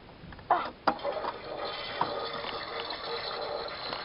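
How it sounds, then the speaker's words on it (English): A Barbie doll house toy toilet flushes with a small, nearby trickling gush of water, preceded by a couple of sharp plastic clicks and continuing as a faint steady flow. "And look what's inside. It flushes."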